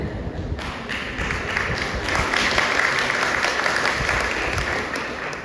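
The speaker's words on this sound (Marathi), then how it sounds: "सगळ्यांनी सरकारने टाळ्या वाजवून स्वागत करावं आणि आमच्या उत्सवमूर्तींना प्रोत्साहित करावं." An audience at a Marathi poetry book launch applauding, a dense clatter of many hands that swells after a brief start and carries on steadily at moderate volume before easing slightly.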